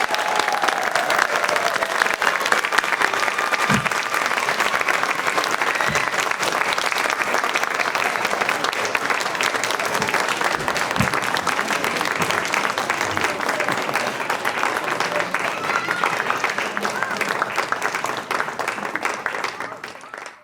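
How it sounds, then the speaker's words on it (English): A crowd gives sustained, dense applause for new citizens at a naturalization ceremony, clapping steadily for about twenty seconds before tapering slightly at the end. "can I get one round of applause for today's new citizens?"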